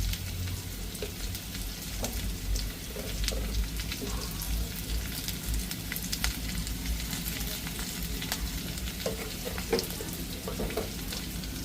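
Steady sizzling of onions and green chillies frying in hot oil, with occasional stirring clinks, continuous and close with no talking.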